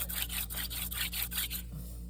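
Wooden hand-drill spindle spun on a knife sharpener for friction fire, a rapid back-and-forth rubbing rasp in about seven quick strokes, close and loud, then stopping.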